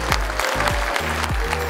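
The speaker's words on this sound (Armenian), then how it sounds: "Եկեք ծափարենք Միքայել Պողոսյանին" Applause at an award ceremony for Mikayel Poghosyan, a steady wash of clapping with low tonal sweeps running beneath it.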